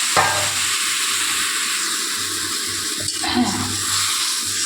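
Water poured into a pan of sizzling fish masala made with desi tyara fish: steady loud frying hiss throughout, with a brief splashing surge around the middle and a low hum underneath.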